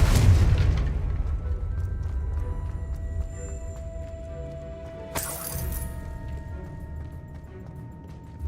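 A Confringo explosion spell from Hogwarts Legacy, a loud booming blast that decays into a rumbling tail, then a second bright shattering crack midway with lingering ringing tones.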